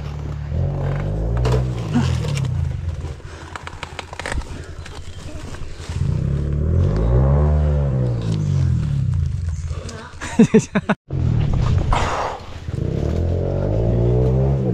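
An enduro motorcycle revs repeatedly on a trail, its engine note rising and falling in several distinct surges between steadier running, with occasional voices nearby.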